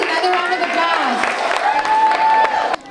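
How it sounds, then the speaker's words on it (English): An audience claps steadily after a series of performances, a warm, even round of applause that stops abruptly near the end. "Please, another round of applause."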